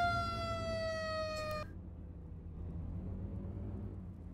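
Emergency vehicle siren in the video game Flashing Lights, a steady electronic wail that holds for about a second and a half and then cuts off abruptly, leaving a low engine rumble.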